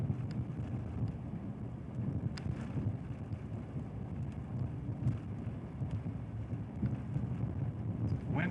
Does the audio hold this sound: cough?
no